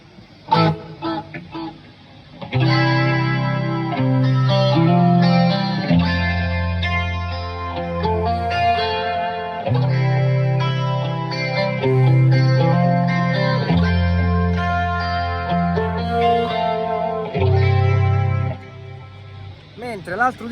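Electric guitar through a Boss delay pedal set for two dry, quieter repeats, playing a continuous, full-bodied chordal passage with shifting notes and steady loudness throughout.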